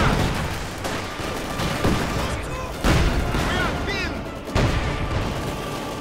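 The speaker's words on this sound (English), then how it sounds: "Lots of machine gun fire, Panther fire, all kinds of fire, sniper fire over here" Battle sounds from Company of Heroes 2: repeated gunfire bursts and heavy booms from tanks and machine guns, recurring every second or so amid ongoing combat noise.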